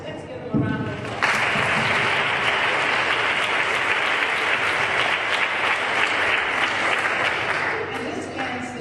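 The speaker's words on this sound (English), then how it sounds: "Let's give them a round of applause." Audience at a talk show in Ghana bursts into sustained applause after a brief spoken line, a dense wash of clapping that holds steady for several seconds before slowly tapering.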